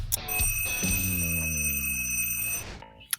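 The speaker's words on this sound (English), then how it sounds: "I heard a buzzing noise, and I thought my own dinner was done" A trivia game's timer buzzer sounds as one loud, steady electronic alarm tone with bright harmonics, holding for about two and a half seconds before cutting off, followed by a brief click.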